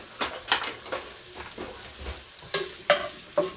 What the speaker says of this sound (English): First I'm going to saute the meat.